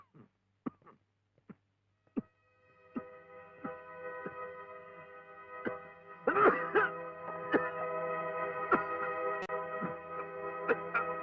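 A man coughs in a Tamil film scene, several short harsh bursts at first, then heavier hacking over a sustained droning musical background, close and fairly loud.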